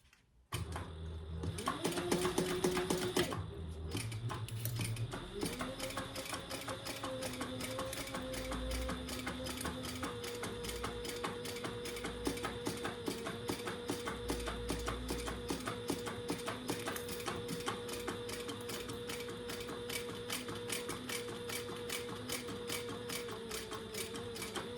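A sewing machine top stitches cork fabric, starting after a short whir and then running in a steady, close mechanical chatter of rapid needle strokes for over twenty seconds, with no voices.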